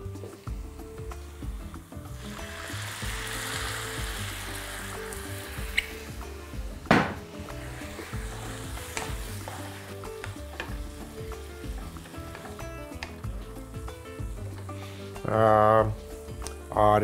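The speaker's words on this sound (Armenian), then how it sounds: "Իսկ տապակվող բաղադրիչներին կավելացնեմ սպիտակ կիսաանապակ գինի։" Mushroom soup ingredients sizzle steadily in a pan as white semi-sweet wine is added, with a sharp hiss and occasional stirring scrapes, and a brief voice near the end.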